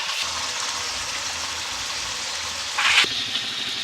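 Cut chicken pieces tossed into a pan of spice masala for chicken rezala, sizzling and frying in a steady, loud hiss with a brief louder burst near the end.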